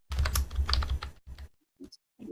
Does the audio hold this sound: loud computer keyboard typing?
yes